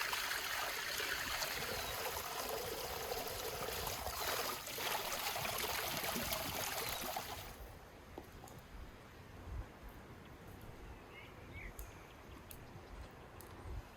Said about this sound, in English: I rinse them in a homemade wooden colander